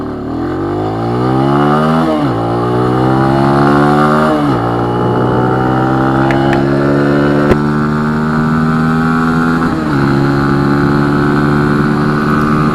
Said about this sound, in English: Just shift down a little earlier than you normally would. Get a nice little engine rev,